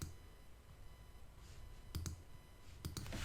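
A computer mouse clicks a link during a VCSA 6.7 software installation, making a few quick close clicks in two small clusters over a low steady room hum.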